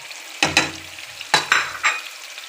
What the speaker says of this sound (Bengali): এটা তেলের মধ্যে কষিয়ে নিব, ভাজা ভাজার মতো করে এটা কষিয়ে নিব